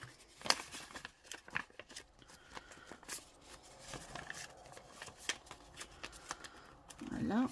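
Paper euro banknotes being folded by hand at close range, giving crisp crinkles and rustling snaps in irregular bursts, with a soft voice briefly present.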